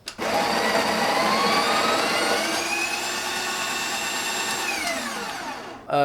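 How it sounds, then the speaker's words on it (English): A Breville Barista Express burr grinder grinding coffee beans, a loud steady whirring grind with rising whine lasting about six seconds, then spinning down quickly with no talking. "we're just going to pop it back in and grind out the rest"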